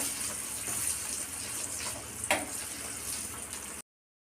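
Pea-stuffed kachori puris frying in hot oil, a steady close hiss and sizzle with a brief louder bubbling burst midway before cutting to silence.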